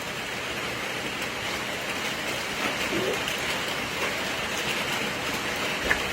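Steady rain hisses evenly in the background, a soft continuous patter with no clear talking over it.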